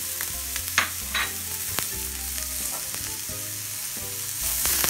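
Onions frying in a hot pan for a cheesy vegetable pastie, with a bright, constant sizzle and intermittent stirring and scraping clatter up close and no voices.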